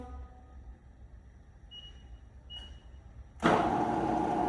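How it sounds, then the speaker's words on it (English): A 2004 SWI Trak DPM5 CNC vertical bed mill running in low gear: a faint hum and two short electronic beeps, then the spindle kicks in with a sudden, steady, loud whirring roar that holds to the end. "The machine is running at a low gear"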